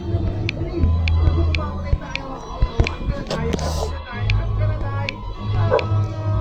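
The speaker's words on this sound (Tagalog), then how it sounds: "Ang ingay ng aso." A small dog yips and barks repeatedly in sharp, close bursts over a low steady hum, while people talk intermittently in the background.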